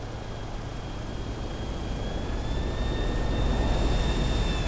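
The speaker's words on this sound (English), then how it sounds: "Oh, an helicopter." A helicopter flying in the video game GTA 5 on PS5 gives a steady broadband whooshing engine roar with a faint high whine, building gradually louder as it nears, no voices over it.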